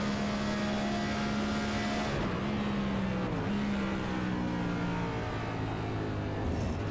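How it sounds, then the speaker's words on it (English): A race car in the iRacing sim at Watkins Glen brakes hard and downshifts into a corner, its high engine whine dropping through falling pitch steps, loud and close with no talk over it. "Heavy braking right there to get in, get off of that corner. Downshifting."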